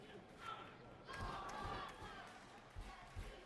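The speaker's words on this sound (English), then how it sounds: "Crowd's getting into it." Spectators cheering and shouting at a U14 ice hockey game in the rink, a rising swell of crowd voices with thuds of pucks and boards, fairly distant and moderately quiet.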